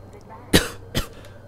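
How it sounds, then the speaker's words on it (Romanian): A person coughs twice in quick succession, close and fairly sharp, with a low steady hum underneath. "M-a făcut să tușesc."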